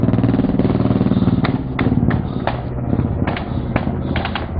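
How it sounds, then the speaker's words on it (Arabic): Heavy explosions from an aerial bombardment near the ancient site of Qal'at Sim'an at Daret Izza, Aleppo, give a loud, rumbling low roar broken by several sharp, cracking blasts, with no voices. "قصف قلعة سمعان الأثرية بالطيران في مدينة دار عزة"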